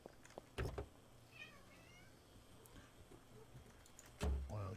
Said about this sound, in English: Cat making catty sounds.